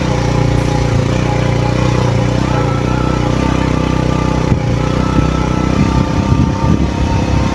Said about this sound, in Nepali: खासै ल्याउँदा रहेछ नि बाइक थापाकाले